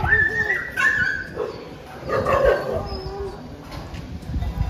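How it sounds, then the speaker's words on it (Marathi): Dogs fighting in a village, with barks, yips and whimpering whines rising and falling over about five seconds, fairly close and continuous with no talk over them. "कुत्रे भांडण करताय तिथं."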